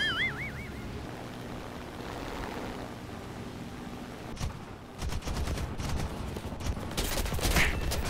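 Gunfire rattles in War Thunder, first a muffled engine-like rumble, then rapid bursts of machine-gun shots that grow louder and denser toward the end.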